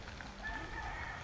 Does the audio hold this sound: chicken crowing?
yes